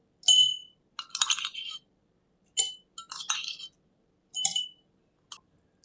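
Ice cubes dropped one after another into a glass for jeera soda, several bright clinks and rattles in short bursts separated by silence, close and clear.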